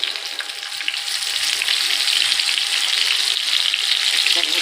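Dried chilli, bay leaf and tomato hit hot oil alongside already-fried chicken pieces, giving a loud, continuous close-up sizzle that holds steady throughout.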